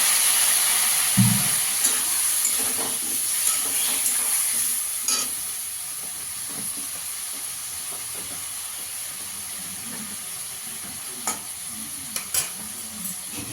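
Spice masala for a Bengali katla fish curry with vegetables hisses loudly in a pan as water goes in, a strong steamy sizzle that slowly settles into gentler frying, with occasional utensil clinks and no voices.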